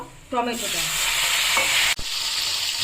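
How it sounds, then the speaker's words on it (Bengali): A loud, steady sizzle of raw onions frying red in hot oil, starting suddenly, with a brief clatter of stirring near the end. "কাঁচা পেঁয়াজটা ভাজা করবার জন্য একটু ভেজে নেব পেঁয়াজটাকে"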